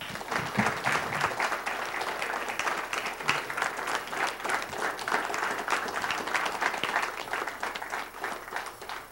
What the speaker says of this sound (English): I hope you are not applauding me